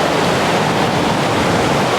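A fast-flowing creek rushes steadily through dense, jungle-like woods off the trail, a loud, continuous broadband roar of churning water close by with no voices.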